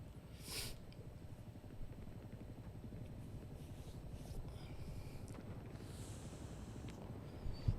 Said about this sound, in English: Look at all those planes making their way over the map.